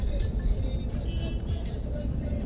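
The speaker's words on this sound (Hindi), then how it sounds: "ट्रैफिक जाम हो गया भाई एकदम।" Steady low road-traffic rumble from cars crawling in a jam in Jaipur, a continuous engine drone with no distinct horns or passes standing out.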